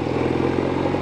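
A vintage Norton Atlas 750 motorcycle engine runs steadily and loud, with a throbbing low-pitched exhaust note that stays even and close for the full second, no voices present.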